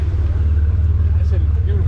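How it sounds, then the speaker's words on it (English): BMW M3 G80 cars roll up during a city-to-city rally, a deep, steady engine rumble close by with voices talking over it. "Got the M3 G80s pulling up."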